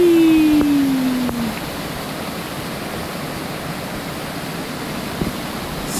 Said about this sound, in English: Incredible little waterfall there.